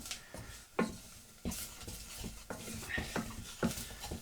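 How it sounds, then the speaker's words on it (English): Flour stirred into oil and onion in a pot for a Scotch pie filling: a spoon scrapes and knocks against the pot in several irregular turns, close and fairly quiet, over a faint sizzle, with no talking. "I'll get that stirring and just give that a few turns"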